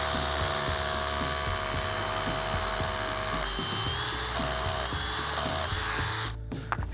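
A drill bores a pilot hole into a Perma-Column, a loud continuous whirring grind with shifting pitch that runs steadily close by, then cuts off abruptly near the end.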